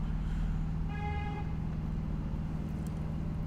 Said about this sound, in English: Why are you honking, bro?